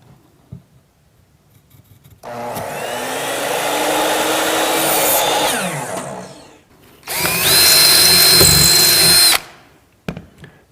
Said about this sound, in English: Drill 1/4 inch mounting holes an inch or so from each end.